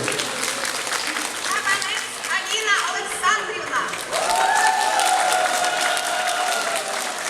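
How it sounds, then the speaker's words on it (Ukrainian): A crowd at a school graduation evening in Obukhiv applauds steadily throughout, with voices and cheering mixed into the clapping and a sustained tone swelling in partway through. "то це ж такі аплодисменти"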